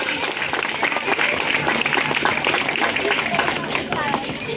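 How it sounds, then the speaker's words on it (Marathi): An audience at a school event applauds the teachers with dense, steady clapping throughout, mixed with crowd voices and chatter. "या सर्व शिक्षकांना यांना एकदा टाळ्या द्या."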